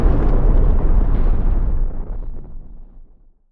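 A loud, close explosion sound effect: a heavy deep roaring blast that rumbles steadily for about two seconds, then decays slowly into silence.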